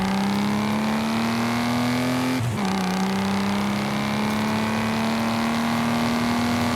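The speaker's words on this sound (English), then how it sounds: "in Forza Horizon 5, this is what a stock G65 sounds like" Stock Mercedes G65 engine in Forza Horizon 5 video game, a loud steady drone holding one pitch, then a brief shift-like break and a slightly lower, rising hum, with no voices.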